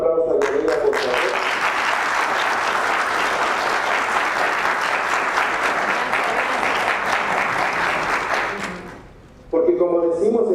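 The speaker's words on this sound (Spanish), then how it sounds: "Yo sí les pediría a todos que le diéramos un aplauso a Yanira, por favor." Sustained audience applause at a pulmonary hypertension awareness conference: thick, even clapping that holds for about nine seconds, then fades out before a voice resumes speaking.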